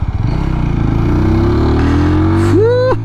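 TVS Apache RTR 200 motorcycle ridden hard on a race track, its engine droning steadily loud and close, the tone gradually rising as it accelerates, then a quick rev climb and dip near the end.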